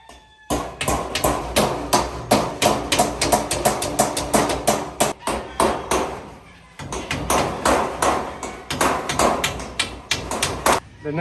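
Hammer driving 1-inch nails through bamboo into wood, rapid close strikes in two long runs with a brief pause between them.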